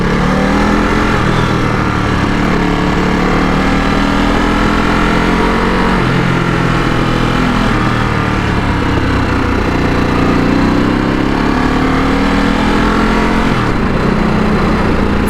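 A Ducati Supersport S motorcycle being ridden, its engine a loud, steady drone mixed with heavy wind rush throughout, with no talking.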